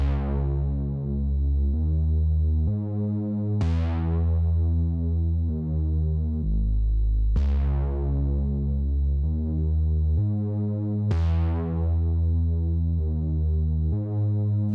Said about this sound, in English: This is the bass with all the effects on.